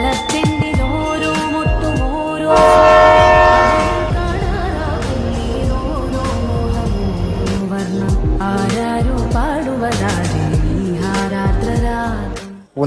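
A train passes through a railway station sounding its loud, sustained horn in several blasts, with rumbling wheels and rail clatter underneath throughout.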